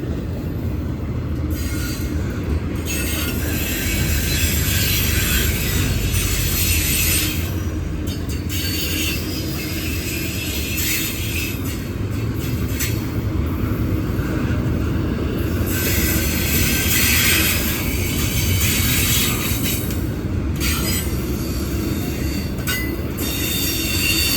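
A Norfolk Southern intermodal freight train rolls past at Gaffney, South Carolina, loud and close, with a continuous rumble of wheels on rail, rhythmic clicks over joints and intermittent high wheel squeal.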